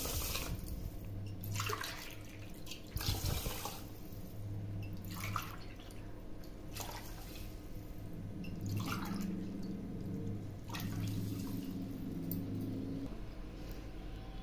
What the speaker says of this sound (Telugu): 2 గ్లాసుల బియ్యము 1 గ్లాసు పెసరపప్పు తీసుకున్నాను కాబట్టి ఇందులోకి 5 గ్లాసుల నీళ్లు పోస్తున్నానండి